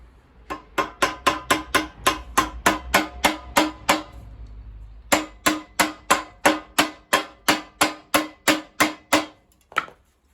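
Rapid, evenly spaced metallic hammer taps driving a roll pin into a BT Rolatruck pallet truck's front roller wheel, in two long bursts with a short pause between, close and sharp, followed by one final strike.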